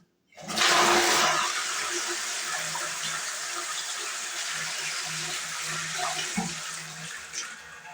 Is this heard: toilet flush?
yes